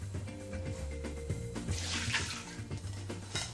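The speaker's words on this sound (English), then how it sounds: "Pouring boiling water over the bean sprouts and sugar snaps" Boiling water pours over bean sprouts and sugar snap peas in a kitchen, a soft steady splashing stream running for several seconds, faint and continuous, with music playing quietly underneath and no talk.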